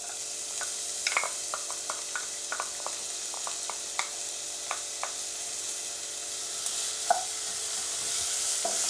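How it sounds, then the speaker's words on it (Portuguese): Chopped onion with garlic sautés in hot olive oil, a steady close sizzle under repeated light scraping and clicking strokes from the stirring utensil against the pan. "E vou mexendo aqui até ela dar uma murchadinha"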